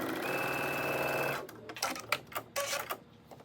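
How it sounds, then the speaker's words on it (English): A domestic sewing machine stitches pieced quilt block fabric along a short quarter-inch seam, giving a close steady whirring run that stops, then a series of sharp mechanical clicks and taps. "just lining them up and stitch along that short section."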